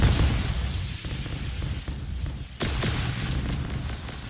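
Rockets launch and explode in Nimbatus, a dense, continuous rumble of blasts and pops, loud and close, with a sharp renewed burst partway through.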